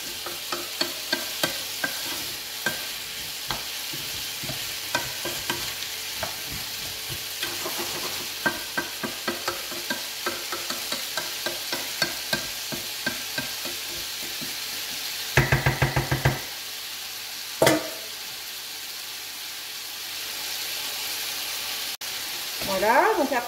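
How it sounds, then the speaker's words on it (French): Potatoes and eggs searing in a pan over high heat for a Spanish tortilla, with a steady sizzle under repeated rhythmic scraping and stirring knocks, then a few louder clatters near the end. "après avoir laissé saisir pendant presque 5 minutes à feu vif, on va pouvoir couvrir"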